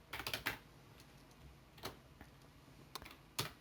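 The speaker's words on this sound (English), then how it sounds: "I'm going to type in localhost" Someone types on a computer keyboard in a quiet room, a quick cluster of soft key taps followed by a few scattered single presses.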